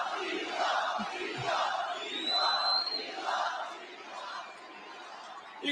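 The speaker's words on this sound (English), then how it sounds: "listen to that crowd." A huge rally crowd at Madison Square Garden in New York, a roaring mass of voices rising and falling in rhythmic cheering swells, heard from a distance inside the arena with no single speaker.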